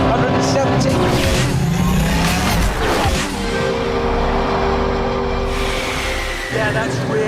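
Lexus LFA supercar accelerating hard, its engine note loud and continuous with rising harmonic tones, one brief drop in the middle and a swell of revs near the end, with some tire noise.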